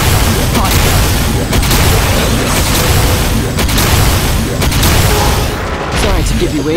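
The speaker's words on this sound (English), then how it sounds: "Particle accelerator. Fire!" Weapon fire from a Xenon particle accelerator attack in MapleStory during a Chaos Von Bon boss fight, a dense loud barrage of booming blasts and bursts throughout, with game audio layered over it.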